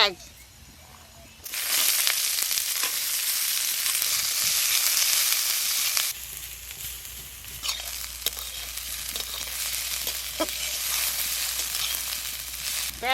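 Cumin and mustard seeds hit hot frying oil, bursting into a loud, close sizzle that crackles and pops, pauses briefly and then resumes with stirring and scattered snaps.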